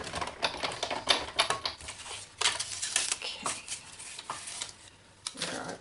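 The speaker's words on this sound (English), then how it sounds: "Send it through the big shot." A Big Shot die cutting machine presses paper pieces for a Halloween trick or treat bag, giving a string of close, dry clicks and crackles with brief pauses between bursts.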